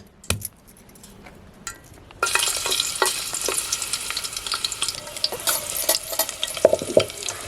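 Crushed garlic fries in hot oil in a pan on a wood-fired village stove, a steady sizzle broken by sharp scraping stirs and clinks of a metal spoon, starting abruptly after a quiet moment.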